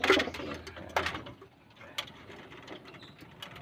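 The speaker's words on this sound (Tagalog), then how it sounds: "Yan ang natira sa 30 kalapati ko." Pigeons, survivors of a flock of thirty, some having had one-eye cold, make faint cooing and fluttery bird sounds nearby, with a few soft clicks and rustles in a quiet loft.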